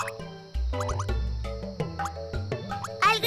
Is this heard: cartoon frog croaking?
yes